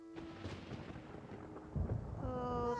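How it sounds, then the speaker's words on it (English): Thunder from a storm in Genshin Impact rumbles low and distant, building to a deeper roll near the end while a soft musical tone hums under it. "Paimon hears thunder!"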